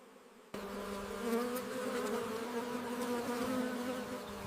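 A dense, steady hum of many honey bees buzzing around hives close by, continuous and fairly loud after a sudden start.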